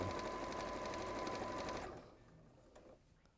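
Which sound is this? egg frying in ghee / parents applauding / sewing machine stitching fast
sewing machine stitching fast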